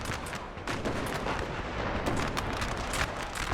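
Cannon artillery fire in a Napoleon Total War III battle, a dense continuous barrage of booming shots and crackling gunfire with no clear gaps, loud and close throughout.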